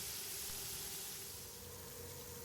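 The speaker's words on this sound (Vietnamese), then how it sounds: "bây giờ mình cho đậu hũ vô, mình chiên luôn" Pieces of tofu frying in hot oil make a soft, continuous hiss and sizzle, faint and even across the short stretch, with no talking.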